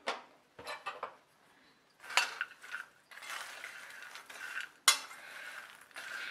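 Puffed makhana tossed with dry mango powder, rock salt and a little sugar in a bowl, giving light scraping, rattling and clinking bursts in an irregular rhythm, close and fairly quiet.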